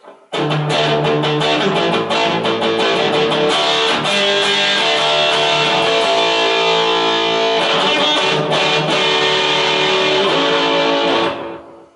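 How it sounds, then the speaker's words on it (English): A heavily distorted electric guitar rings out in thick, sustained chords, loud and dense from start to finish, with a brief dip before swelling again. "This is just another reasonably respectable distortion I managed to coax out of it."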